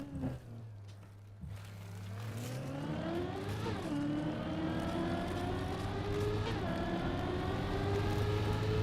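A video-game race car engine in Trackmania revs and climbs through the gears on an ice track, its pitch rising in steady sweeps, loud and close with no talking.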